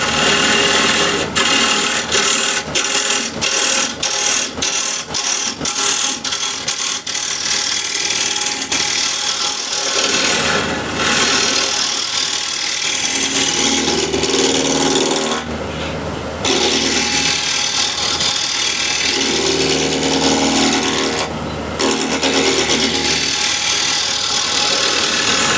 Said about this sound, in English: you can see how this timber scrapes